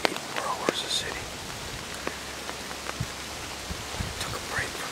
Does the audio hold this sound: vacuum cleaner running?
no